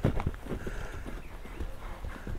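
Horse running on open ground during a horseback event, its hooves clip-clopping in a quick, uneven rhythm at moderate distance, with faint background voices.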